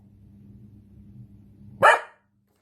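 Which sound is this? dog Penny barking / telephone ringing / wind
dog Penny barking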